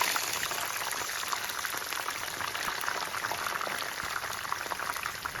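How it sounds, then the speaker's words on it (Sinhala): Sweet potato slices deep frying in hot oil for homemade chips, a steady dense crackle and sizzle with fine popping, close and continuous throughout with no talking. "ඉතුරු බතල ටිකත් මේ විදිහට මොම් බැද ගන්නවා."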